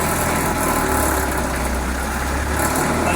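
A Land Rover's 2.5-litre naturally aspirated diesel engine runs close and loud with a steady, rough, clattering idle throughout and no talk.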